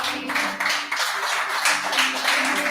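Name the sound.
church congregation applause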